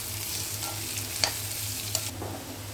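Gooseberries for a dry pickle are stirred and fried in a pan, giving a steady close sizzle with a couple of sharp scraping clicks from the spoon.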